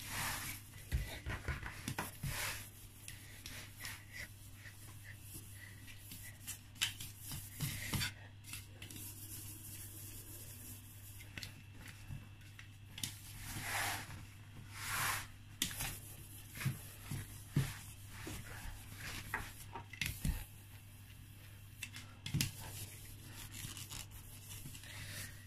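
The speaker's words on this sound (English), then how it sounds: "I'm going to use my smoother and I'll go around the cake." A cake smoother scrapes around the sides of a frosted cake in soft, intermittent swipes and scratchy strokes, faint and close, over a low steady hum.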